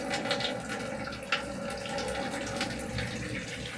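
Water pours and trickles through plants and vegetation in a continuous splashing wash, moderately loud and close, with small gurgles throughout.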